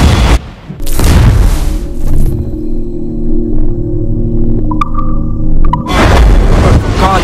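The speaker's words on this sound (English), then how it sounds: "Fire what cannons you will, and land a few." Heavy booming ship cannon blasts in the video game Assassin's Creed IV: Black Flag erupt at the start and end, with a low rumbling drone and ringing tones between the loud bursts.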